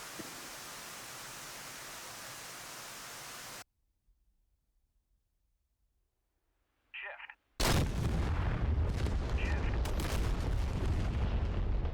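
Artillery salvos in the DCS combat flight simulator, a heavy roaring barrage of noise, then near silence with one brief burst, before a loud, sustained wall of explosions and rumbling blasts resumes.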